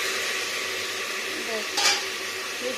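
Mixed vegetables with arum stirred in a pan without water, with a steady soft sizzle, light scraping of a ladle and one brief metallic scrape, close at moderate loudness.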